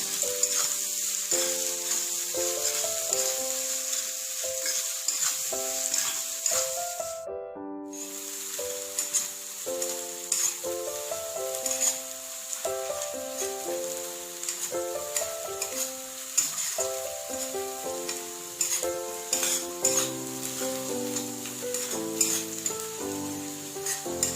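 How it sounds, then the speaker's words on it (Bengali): Chopped onion fries in a pan with a continuous bright sizzle, briefly cut off, then resuming with frequent stirring scrapes and clatter of a spoon against the pan throughout. "এবার পেঁয়াজ কুচিটা দিয়ে দিলাম। পেঁয়াজটা ভালো করে ভেজে নেব।"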